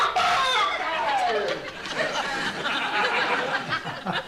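Hens clucking and a rooster crowing in a comedy sketch set around a hen-feeding gadget, busy, overlapping poultry calls at close range, loud, with talk and laughter mixed in.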